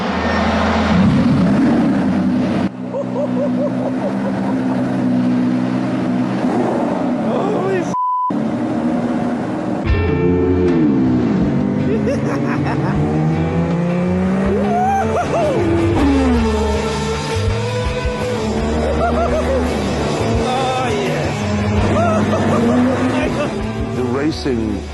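A mid-1980s Formula One race car, the one that won Senna his first title, is driven on track with a loud, continuous engine note that climbs and falls through gear changes and corners, with a brief dropout partway through.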